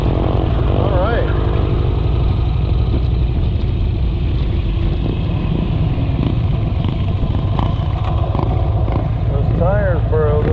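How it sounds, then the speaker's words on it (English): A dirt bike's engine drones loudly and steadily close by as it rides past, with a voice speaking over the rumble. "Here's a guy with a Dirt bike?"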